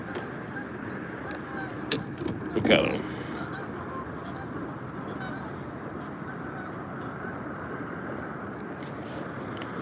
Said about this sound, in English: these geese are just going at it